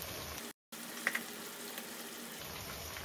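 Ginger-garlic paste sizzles in hot oil with onions fried until red, while fish is also frying in the same kitchen; a quiet, steady sizzle runs throughout, broken by a brief silent gap early on.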